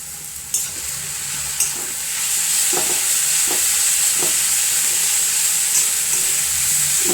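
Spinach cooks on a stove in a steady, bright sizzle, with a few clunks and scraping strokes of a spoon stirring it up close.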